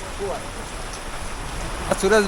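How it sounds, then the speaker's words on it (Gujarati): Heavy, continuous rain at Saputara hill station in the Dang hills: a dense, steady hiss of falling water close by, with a voice briefly breaking in near the end. "સાપુતારા પહોંચ્યા ત્યાં સુધી સતત ભારે વરસાદ"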